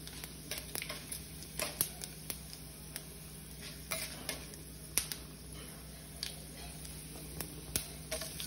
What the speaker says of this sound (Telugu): ఇలా నలిగిన తర్వాత పోపు పెట్టుకోవాలండి.